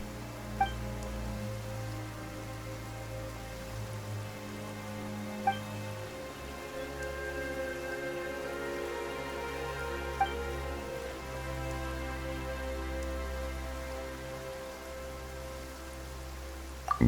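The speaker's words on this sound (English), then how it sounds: "Why is it raining all of a sudden?" Steady rain falls in the video game Genshin Impact, a continuous patter of drops on surfaces under a low, droning game soundscape, with a few faint clicks.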